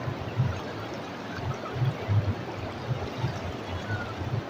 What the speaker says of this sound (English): Listen the river sound.